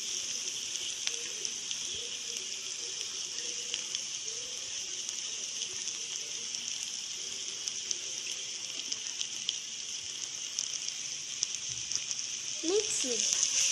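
Chopped carrot frying in a pan for carrot rice, an even steady sizzle throughout with faint low background sound and a short burst of clatter near the end.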